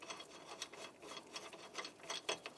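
A tool works the lug nuts off a Dodge Charger wheel with quick, faint metallic ratcheting clicks in an irregular run, and no talking.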